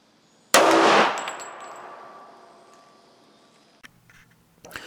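A single loud .45 ACP pistol shot firing a 230 grain bullet into sand, sharp and close, with a long ringing decay and a couple of small clicks afterward.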